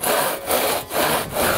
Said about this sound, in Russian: Видите, как пилить правильно надо.